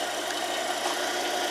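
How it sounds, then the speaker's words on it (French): A 575-volt electric motor fed through a Hector circuit runs with a steady, even hum and broadband whir, unchanging and close throughout with no other sounds. "Je roule ça avec un moteur 575."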